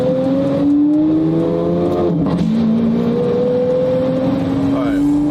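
A loud Lamborghini engine drones steadily nearby, holding a sustained revving tone with a short dip midway before climbing again, continuous throughout with no pauses.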